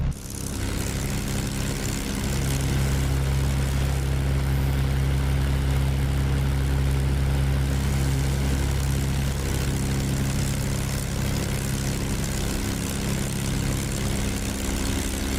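Propeller engine of a P-51 Mustang fighter plane in the DCS flight simulator, a steady loud drone with a deep low rumble holding constant throughout, with no talk.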